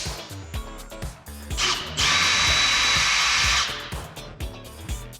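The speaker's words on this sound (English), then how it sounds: "I started mounting the door bracket by drilling some holes." A power drill whirs steadily for about two seconds, drilling holes to mount a door bracket in a camper kitchen, amid scattered knocks and handling noises, loud and close.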